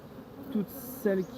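Honeybees at a hive entrance, some on the landing board, buzz continuously nearby, with louder individual bees droning past in two distinct passes.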